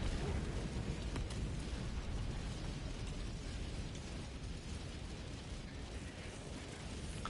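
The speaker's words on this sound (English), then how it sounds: "Orbital barrage incoming." Orbital barrage strikes in Helldivers-style combat against a cyborg uprising, a dense, continuous roar of overlapping explosions and rumbling booms sustained loudly throughout with no voices.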